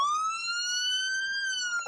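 A police siren from the Roblox game The Intruder sounds as one loud, sustained wail that slowly rises and dips in pitch, heard alone.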